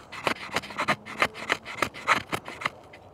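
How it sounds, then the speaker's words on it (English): A TOPS Armado 6.5 knife with a slicey edge shaves curls from a piece of wood, a quick series of about a dozen close, dry rasping strokes with a rough, uneven rhythm. "Come in here and just make nice little shavings."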